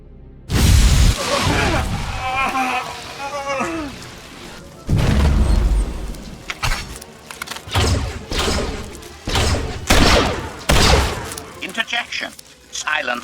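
Star Wars video game battle with a station's weapons firing, heavy booms and volleys of blasts in loud bursts, interleaved with bursts of game dialogue.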